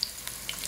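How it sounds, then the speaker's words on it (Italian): Faint, brief sizzle of artichokes frying in oil in a pan, a soft steady crackle with a few small pops. "Vedete, l'olio sta friggendo bene bene"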